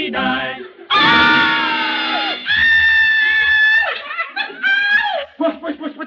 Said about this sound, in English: What are you screaming about?